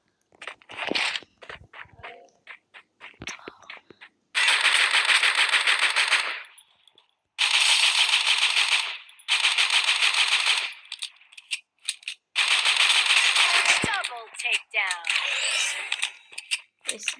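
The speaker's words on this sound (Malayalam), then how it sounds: "ഇവിടെ ഒരു വെടിയുടെ ശബ്ദം കേട്ടില്ല ഗൈസ്, ഗൺ ഷൂട്ടിങ്." Automatic gunfire from the Free Fire battle royale mobile game in ranked mode, loud sustained bursts of a few seconds each separated by short gaps, with scattered single shots and clicks between them.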